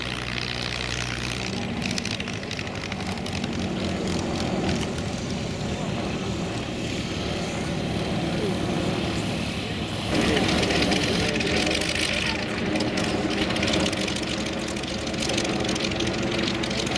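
A piston-powered Navy propeller airplane at the Oshkosh AirVenture airshow drones steadily and loudly for the whole stretch, its engine roar swelling a little partway through, with crowd and announcer noise underneath.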